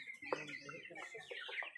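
Chickens cluck softly on a poultry farm, a quiet scatter of short clucks and higher calls close by, with no one speaking.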